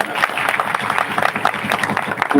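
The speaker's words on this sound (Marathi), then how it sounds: "टाळ्या वाजवा यांच्याकडे" An audience claps through a Marathi kirtan, a dense, steady patter of applause with no break from start to finish.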